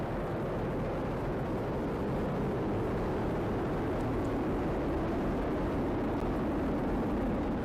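Falcon Heavy rocket lifts off with all 27 Merlin engines firing, a dense, steady low roar that rumbles on without a break, far off and unchanging. No voices are heard.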